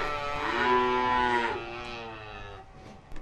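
Calves mooing at a farm during milk feeding, one drawn-out bawling call with a clear harmonic tone that rises and then fades over a few seconds, close by with no talk.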